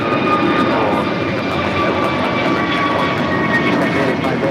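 A heavy jet takes off from runway 25 right at LAX, heard as a loud, steady engine roar with a thin whine on top, holding constant and unbroken throughout.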